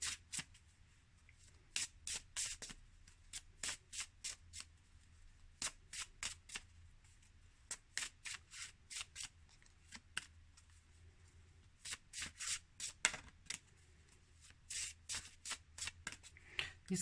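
A deck of cards being shuffled by hand, with repeated quick riffling bursts and pauses between, close and quiet in a hushed room, no talking.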